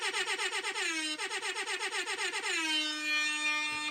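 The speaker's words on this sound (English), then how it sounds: "Let's get the air horn fired up." An air horn sound effect blasting in rapid repeated pulses, then a sustained long honk, loud and close with no talking.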